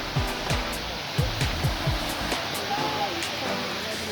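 A waterfall heard as a steady broad rush of falling water, with a few low thuds and some faint background talk.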